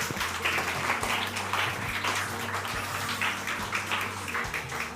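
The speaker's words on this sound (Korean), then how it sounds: "우리 이 세 아이들에게 축하의 박수 한번." A church congregation applauds three newly baptized children, a steady, dense patter of many hands lasting the whole stretch over a faint low hum.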